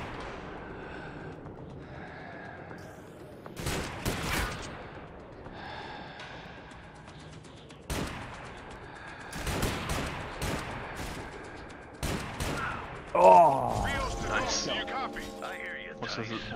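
Gunshots from a video game in a split-screen Army Rangers mission come as several sharp, separate cracks spaced seconds apart, and players' voices chatter quietly between them.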